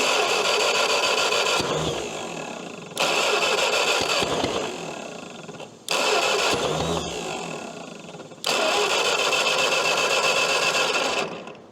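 A 1952 Caterpillar D4 dozer that sat for over ten years cranks and tries to fire, loud and close, its engine surging in several bursts broken by brief drops.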